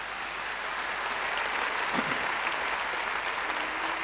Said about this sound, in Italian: E facciamo un applauso ai cittadini di Lampedusa.